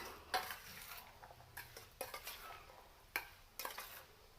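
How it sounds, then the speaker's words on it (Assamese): Garlic pickle stirred in a pan, with a few scattered clinks and scrapes of a utensil against metal at irregular intervals over a faint background, quiet and without talk. "এতিয়া এইখিনি ভালদৰে লৰাই দিম।"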